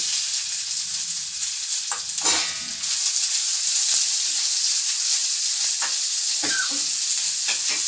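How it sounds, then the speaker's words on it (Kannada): Steady, crackling sizzle of onions, green chillies and spices frying in hot oil as a tempering for masala dosa, close and loud, with occasional sharper pops and spits throughout. "ಒಗ್ಗರಣೆ ಮಾಡ್ತಾ ಇದ್ದೇನೆ"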